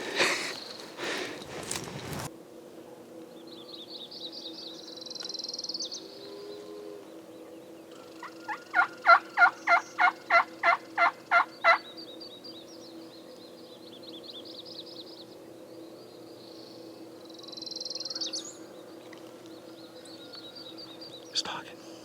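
A wild turkey gobbles in a turkey hunting camp, a rapid rattling burst of gobbling notes in the middle, with quieter bird calls and chirps around it and a steady low hum underneath.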